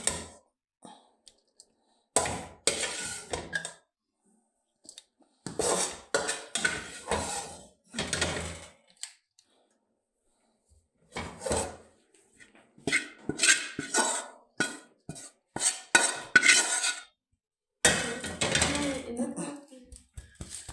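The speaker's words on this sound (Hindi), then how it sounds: "अब ये हमने एक परात ली है, इसके अंदर हमने घी लगाया और इसके अंदर हम ये हलवा डालेंगे" Semolina halwa is scraped and spooned into a ghee-greased metal parat, with bursts of clanking and scraping of metal on metal separated by pauses.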